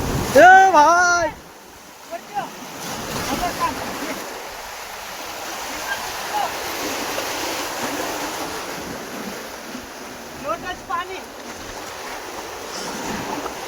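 Seawater rushes in over shoreline rocks with a steady roaring wash and wind noise, as voices shout briefly at the start and again later over the surf.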